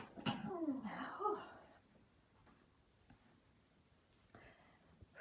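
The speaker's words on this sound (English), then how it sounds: "And I'm going to sneeze." A person sneezes once, close and fairly loud, in a quiet room during a crochet edging demonstration, with a second softer burst just after and quiet rustling afterward.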